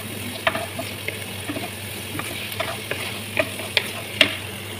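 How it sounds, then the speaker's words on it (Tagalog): Onions sautéing in a pan for adobo, a steady sizzle broken by sharp spatula clicks and taps against the pan at irregular intervals, close and fairly loud. "Guys, gisa tayo ng sibuyas."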